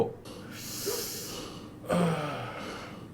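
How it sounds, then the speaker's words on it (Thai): Heavy, raspy panting breaths from an unseen lurker in a horror video game come in two loud bursts, each a sharp snorting gasp trailing into a breathy exhale, close and unaccompanied by talk. "แล้วมีเสียงคนหายใจแฮกๆ มาแอบดูอยู่ตอนเราเยี่ยวด้วยคืออะไรเนี่ย"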